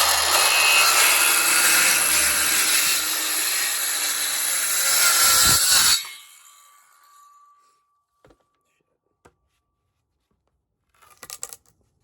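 A hand saw cuts a wooden board to length in rapid, rasping back-and-forth strokes for about six seconds, close and loud, then stops; a few faint knocks and handling sounds follow in near silence.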